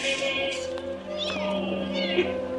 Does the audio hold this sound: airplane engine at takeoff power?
no